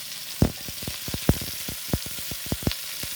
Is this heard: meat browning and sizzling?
yes